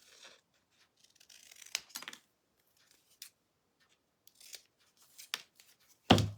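Scissors cutting through paper and a printed sheet while trimming excess for a moose Christmas door hanger, heard as a few short, quiet snips spread across a mostly silent stretch, with a louder close rustle at the end.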